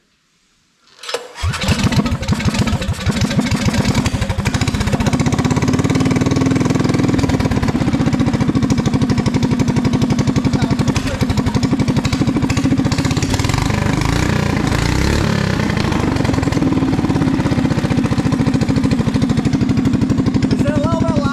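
A Predator 459 engine on a Coleman ATV with a new exhaust sputters to life after a second of silence, then runs loud and steady with a rough, raspy roar throughout.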